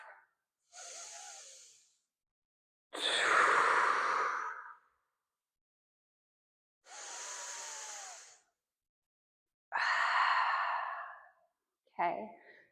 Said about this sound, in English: We're here for 2 more rounds of breath.